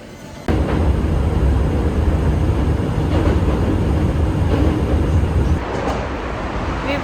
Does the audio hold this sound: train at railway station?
yes